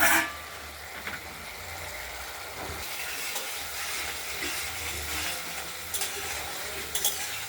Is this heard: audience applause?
no